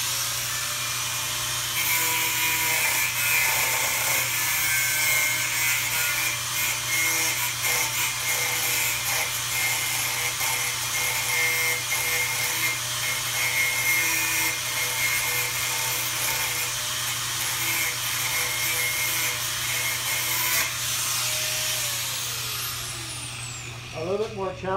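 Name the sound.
angle grinder disc cutting and grinding flat bar metal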